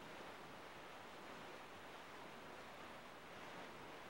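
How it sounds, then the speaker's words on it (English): Steady, soft ocean surf washes continuously at the open sea in The Legend of Zelda: The Wind Waker, a constant hiss of waves with no distinct breaks, calm and distant. "But these relaxing waves though, man."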